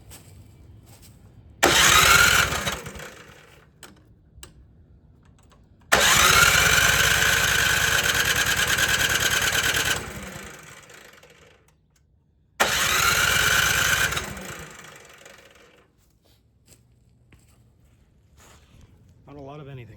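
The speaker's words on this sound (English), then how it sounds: "I'm just going to plug in a cord here and just use the starter" A Briggs and Stratton 1024 snowblower engine cranks on its electric starter in three loud, sustained bursts of a few seconds each, separated by pauses, without catching and running.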